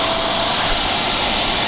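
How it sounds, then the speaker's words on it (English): A wet and dry vacuum roars loudly and steadily while it sucks water out of a car floor mat, a constant close-up rushing whine with no pauses. "So we've done one pass with a wet and dry vacuum."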